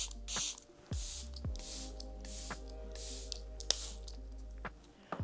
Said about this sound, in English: We're going to spray her down again. Charlotte Tilbury Airbrush Flawless Setting Spray.